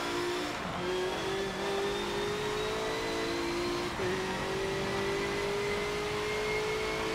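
A BMW M6 GTLM race car engine in Forza 7 drones steadily at high revs, a continuous loud roar with a brief gear change near the start and another dip midway.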